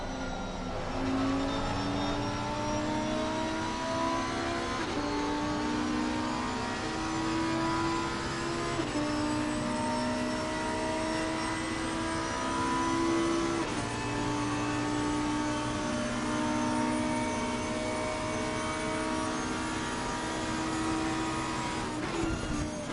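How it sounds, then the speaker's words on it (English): A Lamborghini GT3 race car in Assetto Corsa Competizione, heard from the driver's-eye view, drones continuously with steady engine tone and repeated gear-change steps in pitch, loud and unbroken throughout. "In his Lambo, we're inside driver's eye view. As he chases Mac down"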